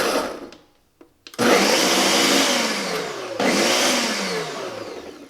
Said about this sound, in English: we will turn the blender on and just do a little pulse